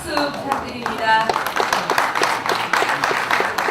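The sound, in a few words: audience applause for the professor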